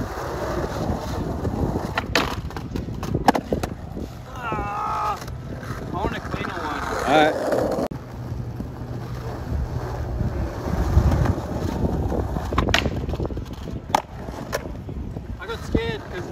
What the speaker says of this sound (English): There's a really chunky ledge here. I just want to get a really nice nose slide around it.